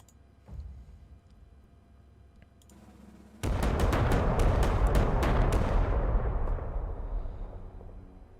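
Bombing attack in the Panzer Corps 2 strategy game: a soft thump leads into a sudden loud roar of explosions with rapid cracking blasts that slowly fade into a rumbling tail, with no talk.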